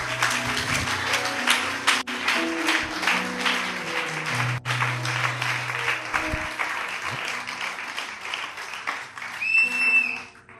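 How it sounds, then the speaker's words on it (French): Congregation applauding in church, steady dense clapping from many hands that runs the full length with a brief cheer-like rise near the end, loud and close with musical tones underneath. "Si tu as été béni par cette parole, acclame le Seigneur Jésus-Christ."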